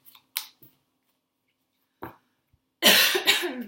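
A person coughs in a few short, sharp bursts separated by silence, ending in a louder, harsher fit of coughing, close and with no speech.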